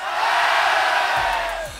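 An audience at a U-22 MC battle rap final yells and cheers loudly in one sustained burst, voting with their voices for a rapper.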